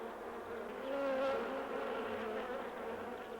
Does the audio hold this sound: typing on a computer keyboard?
no